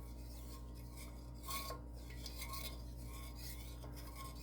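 Sugar and salt stirred into liquid in a bowl to dissolve, a soft scraping and rasping of a utensil against the container with faint clinks, steady and close, no talking.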